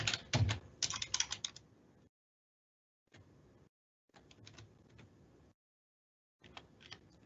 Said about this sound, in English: So I'm doing this quickly using my arrow keys on my keyboard.